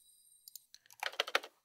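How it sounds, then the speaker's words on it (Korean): PC keyboard typing as a sound effect: a short burst of quick, close key clicks in an irregular rhythm, starting faintly with a couple of isolated taps before a denser flurry of presses. "PC 키보드 소리."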